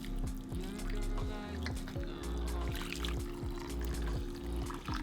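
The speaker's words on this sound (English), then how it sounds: "I'm gonna pour this avocado dye right on top" Avocado dye pours and splashes steadily onto soaked fabric or yarn, with gurgling and dripping over a low background hum throughout.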